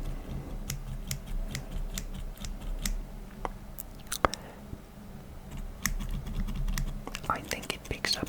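Tiny arts and crafts scissors snip in close, quiet ASMR-style cuts, a series of short crisp clicks at an irregular rhythm over soft background noise.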